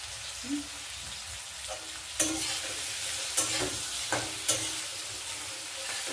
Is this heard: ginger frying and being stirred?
yes